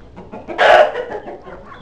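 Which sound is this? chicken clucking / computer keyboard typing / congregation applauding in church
chicken clucking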